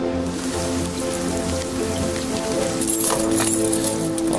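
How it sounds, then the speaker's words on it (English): Heavy rain pours steadily at Leeds railway station during a sudden summer storm, a dense, continuous hiss of drops with occasional splashes and clinks from nearby surfaces. "Torrential downpours in certain areas"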